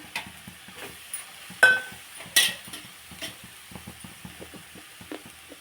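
Cabbage coconut fry is stirred in a pan, with quiet scraping and a faint sizzle punctuated by two louder metallic clinks of the spoon against the pan.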